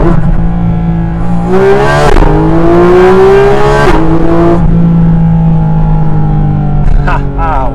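A Porsche GT4 RS Weissach's flat-six engine revs loudly from inside the car, climbing through rising tones with quick shifts and dips, then settling into a lower drone.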